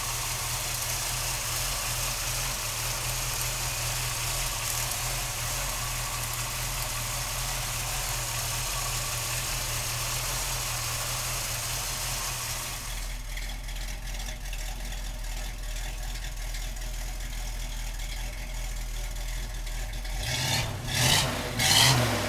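A 1972 Chevrolet pickup with a 350 V8 idles with a steady, deep rumble, close and continuous. The tone shifts partway through, and a few louder bumps come near the end.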